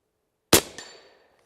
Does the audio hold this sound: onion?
no